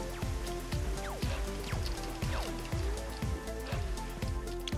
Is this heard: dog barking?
no